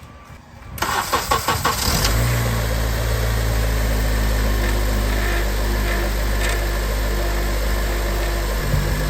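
A 2006 Acura TSX engine is started and settles into a steady idle, with a continuous power steering whine droning on loud and close throughout.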